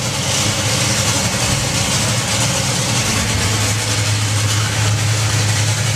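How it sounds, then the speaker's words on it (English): A Top Fuel dragster engine running on nitromethane at a drag racing event, a loud, steady, rumbling drone that continues throughout without a break or any talking. "It has now switched over to nitromethane."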